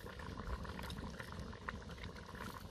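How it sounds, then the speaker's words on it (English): Wild rabbit stew broth simmering and reducing in a camp oven, a steady bubbling burble that stays close and fairly even throughout, with no voices. "The broth is reducing."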